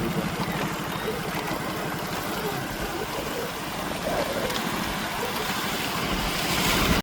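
Continuous rushing floodwater roars steadily over a bridge, a broad churning flow close by that swells slightly toward the end, with no talking.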